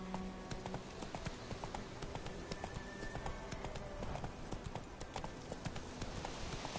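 Roach, a horse in The Witcher video game, gallops with a fast, steady clip-clop of hooves, loud and continuous throughout, with no talking over it.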